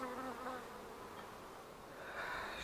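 A swarm of honeybees that has moved into an empty hive holding frames gives off a steady, dense buzzing hum, close and continuous, with no voices.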